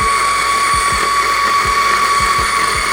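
A DF54 coffee grinder grinds steadily while clogging, a continuous high-pitched motor whine with a low rhythmic thumping pulsing underneath, loud and close throughout.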